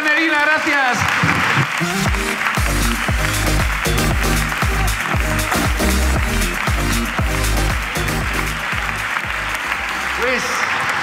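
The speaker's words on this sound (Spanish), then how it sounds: "Aplauso para Nerina" A comedy show audience claps loudly and continuously, dense applause filling the whole stretch with some cheering mixed in.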